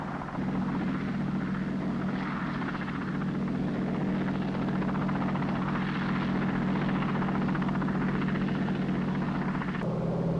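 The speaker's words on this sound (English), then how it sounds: "The helicopters also come aboard at sea." A helicopter lands aboard the Dutch aircraft carrier Hr.Ms. Karel Doorman at sea, its rotor and engine drone loud and steady with a constant low hum throughout and no talk.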